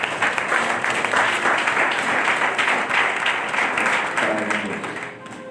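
A church congregation applauds and cheers in a sustained, dense wash of clapping that holds steady at full volume before easing off at the very end.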